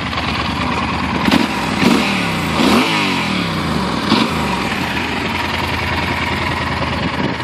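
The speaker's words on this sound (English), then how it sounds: "We're just out riding, taking the Yamaha Super Tenere." A 2012 Yamaha Super Tenere 1200cc liquid-cooled twin-cylinder four-stroke motorcycle is ridden along a canal trail, its engine droning steadily and close, with wind noise and a few brief swells in pitch.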